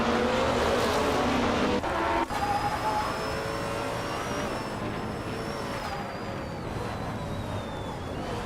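Race cars roar loudly off the starting line in a racing video game, including a classic 1999 Audi R8R LMP 900 prototype, a dense continuous engine blare with rising whines from several cars at once.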